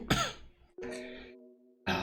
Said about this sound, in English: Had to clear my throat slightly